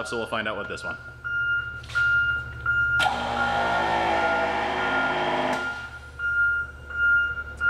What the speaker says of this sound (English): Sorry about the beeping trash truck behind me.